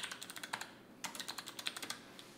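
Bursts of fast typing on a computer keyboard in a quiet room, crisp individual key clicks in two flurries separated by a short pause, close and alone with no voices.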